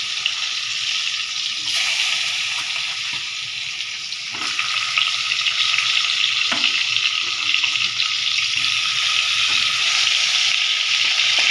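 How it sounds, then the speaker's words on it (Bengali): Pointed gourds stuffed with paneer, rubbed with turmeric and salt, fry in hot oil with a loud, steady sizzle and crackle that carries on throughout, with occasional sharper pops. "এখন পটলগুলো ছেড়ে দিচ্ছি, ভেজে তুলব।"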